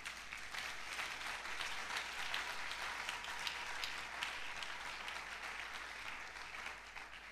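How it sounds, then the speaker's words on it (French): A church congregation applauds loudly and steadily after a call to cheer during a sermon, a dense continuous wash of clapping with no pauses. "Est-ce qu'on peut acclamer très fort?"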